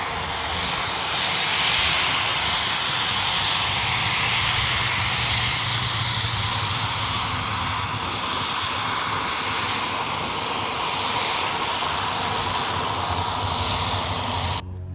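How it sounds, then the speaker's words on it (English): A Cessna 441 Conquest turboprop taxiing past at Jandakot Airport, its engines a loud continuous whine and roar that swells slightly and holds steady throughout, with no talking. "Here is a Cessna 441 Conquest taxiing past."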